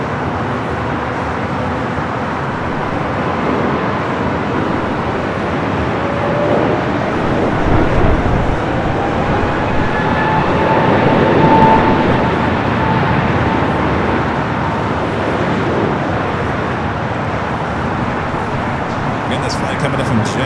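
A 24-year-old Boeing 777-200ER arriving at LAX from JFK, with a broad, steady jet rumble that swells slightly in the middle under a voice talking throughout.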